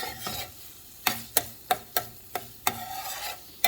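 Tuna pieces scraped and stirred around a pan, a series of sharp utensil scrapes at irregular intervals over a low sizzle, close and moderately loud with no talking.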